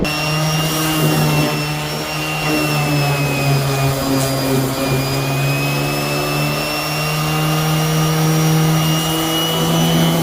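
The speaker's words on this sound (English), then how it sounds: "I'm going to try to grab the DA, sand that all down, and get it smooth again" A dual action sander grinds down dried Bondo body filler on a Honda CRX's driver side rear panel, giving a loud, continuous whining drone that holds steady throughout with no talking.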